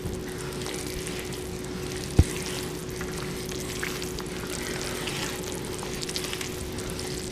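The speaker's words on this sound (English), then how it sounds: "You hear it starting to simmer." A roux sauce simmering over a very low flame in a pan gives a soft, steady bubbling sizzle at close range, with one sharp knock near the start and no talking.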